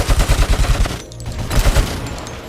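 Rapid gunfire from the RoboCop video game, a fast regular burst of about a dozen loud shots, a short pause, then another quicker volley trailing off.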